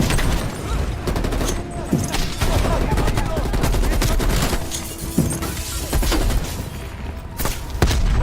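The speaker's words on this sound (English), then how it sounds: "They're shooting at us!" Dense, loud gunfire in the game Call of Duty Cold War, rapid bursts and single cracks firing almost without pause, with booming impacts and shouted voices mixed in.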